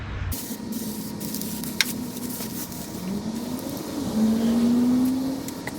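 An aerosol can sprays sheep-spray coating under a work truck being converted, a close continuous hiss in a short burst followed by a longer steady spray, with a faint tonal hum rising underneath.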